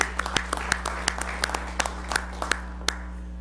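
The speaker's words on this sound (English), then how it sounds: "I'd like to give them a round of applause" A small audience at a city commission work session claps for board members; sparse, distinct, individual claps ring out over a steady electrical hum in a quiet room.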